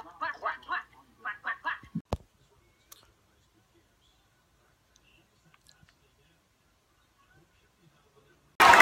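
A voice imitates a duck, giving two quick bursts of nasal quacks, then near silence with a few faint clicks, and a loud noise bursts in at the very end.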